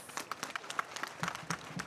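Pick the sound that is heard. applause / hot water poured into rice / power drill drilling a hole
applause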